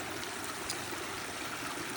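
A backyard garden waterfall flows steadily, a soft, even rush of splashing water heard close and alone, with no voices.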